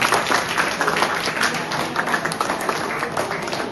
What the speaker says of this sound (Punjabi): ਇਹਨਾਂ ਦੇ ਕੋਈ ਤਾੜੀ ਮਾਰ ਦੋ